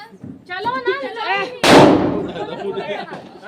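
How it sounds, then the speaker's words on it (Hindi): A Diwali firecracker bursts with one sharp loud bang that decays into a rumbling tail, coming right after a few seconds of close talking. "काफ़ी ज़्यादा पटाखे फोड़ चुके थे"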